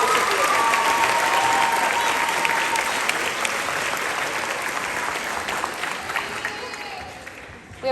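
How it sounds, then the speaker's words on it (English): A school concert audience at a 7th grade concert band spring concert applauds steadily for award recipients, a dense, sustained clapping that gradually tapers off toward the end. "one more round of applause for all of our award recipients"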